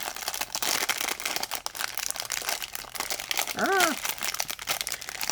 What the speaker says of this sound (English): Rattly packet.